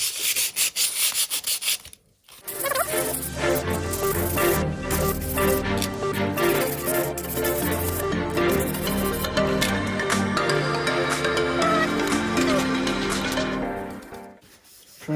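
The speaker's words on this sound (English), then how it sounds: "sand these outer tubes. Let me just grab sandpaper" Carbon tubes for a Ritewing Mini Drak model build are sanded by hand with folded sandpaper, producing loud, continuous rhythmic rubbing strokes that stop briefly near the start and again at the end.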